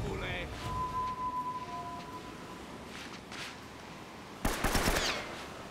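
A sudden burst of rapid gunfire in the video game Uncharted: Drake's Fortune near the end, loud and close, after a stretch of faint background noise and a thin electronic tone.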